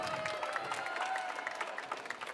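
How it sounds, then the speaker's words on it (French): Audience applause with scattered cheering at a French senior talent trophy regional final, dense and steady throughout, with crowd noise mixed in. "je pense qu'on peut applaudir une dernière fois Silver Geek"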